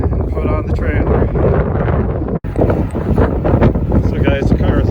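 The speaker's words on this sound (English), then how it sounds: "it's freaking windy as hell" Strong wind buffeting the microphone outdoors in snowy weather while a 1967 Pontiac Tempest is loaded onto a trailer, a loud constant low rumble with gusty rustling and a brief dropout midway.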